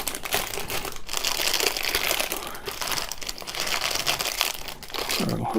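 Plastic bags holding 1/700 scale model ship kit parts crinkle and rustle continuously up close, with a busy, crisp crackling texture throughout.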